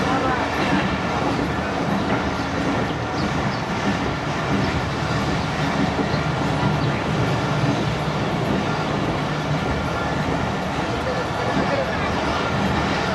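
Inside the Karakoram Express at speed, a loud unbroken rumble and rattle of the carriages runs from start to finish, with wheels clattering over the rails.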